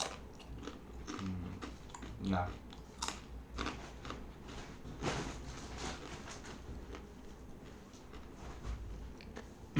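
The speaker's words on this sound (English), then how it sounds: "So I have my millet roti on the side. Just keep munching in between." Steady crunchy chewing of millet roti, close to the mic, with irregular bites and munching throughout and a brief spoken word near the start.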